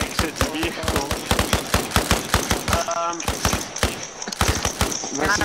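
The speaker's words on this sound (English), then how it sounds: "we are taking fire from the enemy" Enemy gunfire in Arma Reforger: rapid, loud automatic bursts and single shots crackle in quick succession, with a voice briefly speaking between volleys.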